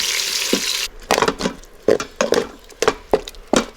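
Hot oil crackles briefly, then a series of sharp, irregular scraping stirs and wet sizzles follow as vegetable pulp and thyme are pushed around a pressure cooker pot for braised short ribs.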